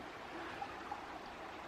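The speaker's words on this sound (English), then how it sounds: "There's a pretty little creek down there." A small creek flows below a bridge, heard as a faint, steady wash of running water with no voices over it.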